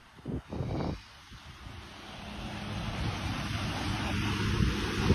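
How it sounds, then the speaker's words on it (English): After a few brief thumps, a steady wash of ocean waves and wind noise builds gradually, growing louder toward the end. "It's the ocean."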